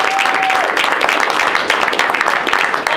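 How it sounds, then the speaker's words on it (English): Applause at a borough council meeting, a dense burst of clapping from a room of people, steady and moderately loud for a few seconds. "Another round of applause for that."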